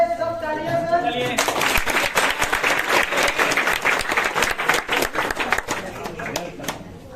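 Audience applause at a children's award ceremony and quiz event in Desari, given as a farewell to a guest. Dense, steady clapping rises after about a second and continues loudly, then thins slightly toward the end, with a voice speaking briefly at the start.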